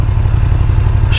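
A 2020 BMW F900R's engine and exhaust give a loud, steady low rumble with an even pulsing beat, holding close and constant throughout.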